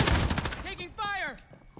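A rapid close burst of gunfire in a shooter game, then sweeping tonal game effects and a few scattered shots trailing off.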